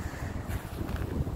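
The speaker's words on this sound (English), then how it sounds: "really windy here." Gusty outdoor wind buffets the microphone with a low, rumbling roar that swells and dips in irregular pulses across the short moment.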